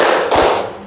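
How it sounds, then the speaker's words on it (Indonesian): A classroom of students clapping on their teacher's count in a civics lesson, one sharp collective clap landing close and loud amid the room's noise. "Oke, coba tepuk tangan 1. Tepuk tangan 2. Tepuk tangan 3."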